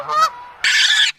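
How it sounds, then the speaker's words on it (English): A fowl gives two loud, close honking calls in quick succession, the second harsher and longer, alone without talk. "Ducks are omnivores."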